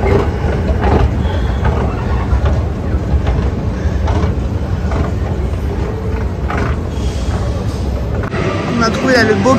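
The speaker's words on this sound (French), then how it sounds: "On a trouvé là le beau cable car." A San Francisco cable car near Union Square, with a steady rolling rumble and clatter of rail wheels, loud and continuous, under busy street noise and people talking nearby.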